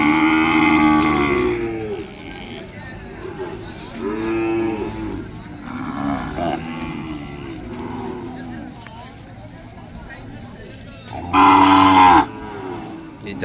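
Cattle moo repeatedly at a bull and calf market in Kodada, Telangana, with several long, loud calls spread through the scene and a particularly strong bellow near the end, over a busy background of market chatter.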